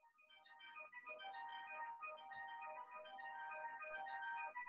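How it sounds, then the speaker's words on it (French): A mobile phone rings with a bright, repeating electronic melody, its tonal jingle looping steadily and growing slightly louder over several seconds in a quiet indoor room, with no voices. "Ah, il y a un téléphone qui sonne."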